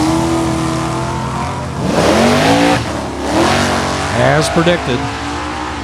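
A Mustang funny car roars down a drag strip at a dragway, loud engine revving and whining in sweeping pitch changes while an announcer talks over it.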